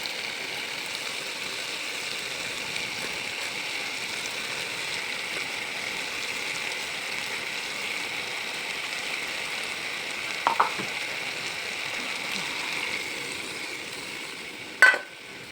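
Puti fish frying in a pan of spiced oil, a constant even hiss of sizzling at moderate loudness with a couple of brief clatters near the end and no voices.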